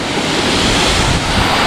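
Salewangan waterfall in Gowa roars as a steady, loud broadband rush of falling water close by, continuous and unbroken, with some wind buffeting on the microphone and no voices.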